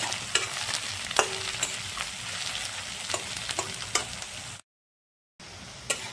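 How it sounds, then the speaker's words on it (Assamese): Onion, dried red chilies, garlic and ginger fry in a pan for egg curry, giving a steady close sizzle with sharp spatula clicks scattered through it and a brief dropout to silence near the end. "এইখিনি অলপ ভাজি লওঁ পিঁয়াজৰ লগত।"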